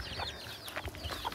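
Chickens cluck in short, scattered bursts in a fenced fruit-tree garden in Hóc Môn that also keeps ducks, close and fairly quiet with no talking.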